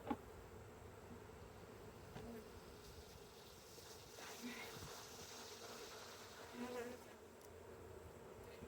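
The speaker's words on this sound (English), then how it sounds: "Oh, they are just a buzzing down there" Honeybees buzz steadily inside an open beehive, a dense, close, continuous hum with a few brief louder passes, while people talk quietly nearby.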